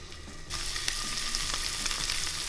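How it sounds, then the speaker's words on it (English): Scallops sear in hot butter and olive oil, a loud sizzle that bursts in as they hit the pan and then holds as a steady crackling hiss with small pops. "Once I've got the butter and oil going, I'm gonna put in the scallops."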